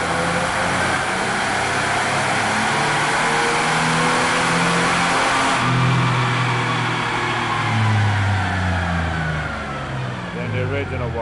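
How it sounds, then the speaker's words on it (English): A small engine fitted with a compact cyclonic muffler revs steadily and loudly, its muffled drone rising and falling in pitch across the span, heard close up without other sounds. "This is the start of the second test with the muffler on it. You can tell that small muffler holds the noise down even more."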